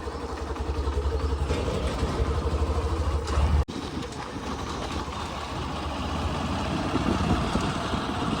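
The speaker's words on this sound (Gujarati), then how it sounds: "તો મારી દઈએ આપણા બુલેટને સેલ" A Bullet motorcycle engine starts and settles into a steady, low, throbbing idle, close by, with a brief cut partway through before the rumble continues evenly.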